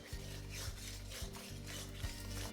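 Spice paste for rui fish curry is worked in a pan over low flame, a soft rhythmic scraping and rubbing of a spatula repeating every half second or so, close and quiet.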